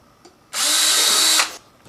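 A power drill whirs loudly for about a second, bites steadily through a plant pot near its top rim, then stops abruptly, with quiet room noise before and after.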